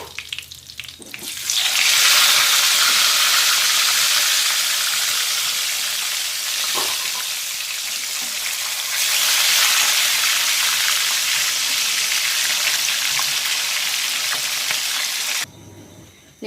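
Loud, continuous sizzling of tilapia frying in plenty of hot oil, a steady crackling hiss that swells midway and stops abruptly near the end.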